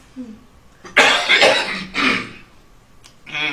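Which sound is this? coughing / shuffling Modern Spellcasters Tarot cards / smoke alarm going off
coughing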